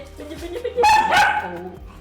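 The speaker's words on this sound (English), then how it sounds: "Oh, I just summoned my other dog." A dog gives one or two loud, close barks with whiny yelping tones, rising sharply in the middle of a short burst.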